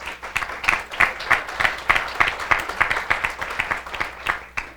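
An audience applauds during a keynote speech at a legal conference, steady close clapping that rises and falls in rapid bursts for several seconds, with a few voices mixed in.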